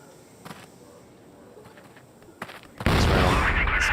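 Gunfire in the CrossFire esports quarterfinal: a few scattered distant shots, then a loud frag grenade blast that lands near the end and rolls on as a sustained roar.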